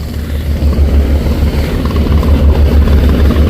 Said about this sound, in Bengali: তো কর্ণফুলি তিন লঞ্চের সাথে সমান গতিতে একটি ট্রলার চলতেছে